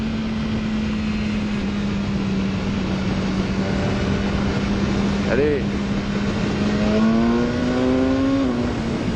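BMW S1000R motorcycle engine revving hard under acceleration, rising in pitch through quickshifted gear changes, loud and close with wind noise throughout, while a rider speaks briefly over it.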